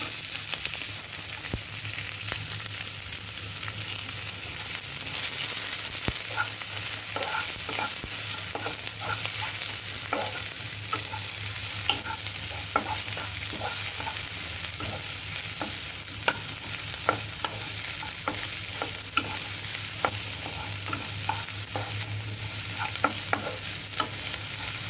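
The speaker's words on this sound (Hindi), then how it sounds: "अब हम डाल देंगे प्याज" Onions go into a pan of golden-browned garlic and fry with a steady sizzle, punctuated by scraping and clinking as a spoon stirs them, close up and continuous with no talking.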